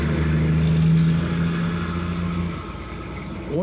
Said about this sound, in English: I wonder if that guy's truck could get any louder.